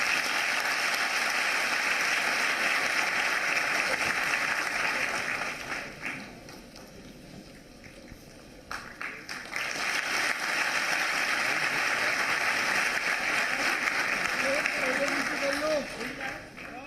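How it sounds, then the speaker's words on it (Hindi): A seated audience at a government youth program event in Bhopal breaks into loud, sustained applause honouring the Chief Minister. The clapping runs dense and continuous, dips briefly midway, then surges again, with faint voices underneath toward the end. "जोरदार तालियों से।"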